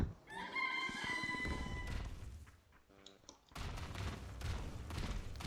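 Chickens in the PUBG video game crowing and clucking, with bright harmonic crow calls in the opening seconds followed by scattered noisy bursts and game sounds.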